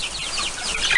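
Chickens cluck and chatter nearby in a steady, busy flurry of short calls, with no talking.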